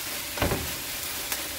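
Dried filefish stir-frying in gochujang sauce, turned with a spoon: a soft, steady sizzle with a couple of brief scraping stirs, fairly quiet and without talk.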